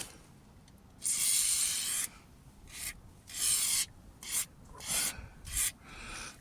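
Cloth rubbing rubber trim clean with WD-40 inside a Jaguar XKR being dried out after a water leak, heard as close, dry rasping strokes in uneven bursts, some long and some short, with no talk.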